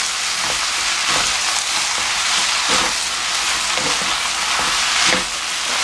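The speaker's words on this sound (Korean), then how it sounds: "불을 다시 켜고 볶아줍니다." Bean sprouts stir-fried in a hot pan for a children's soy-sauce japchae, giving a steady loud sizzle with periodic scraping stir strokes throughout, no voices.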